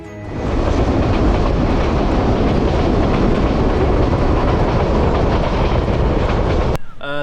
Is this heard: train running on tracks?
yes